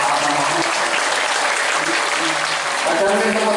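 An audience at a comedic Islamic sermon in a police headquarters hall breaks into steady, loud applause mixed with laughter and crowd voices, dense and continuous throughout.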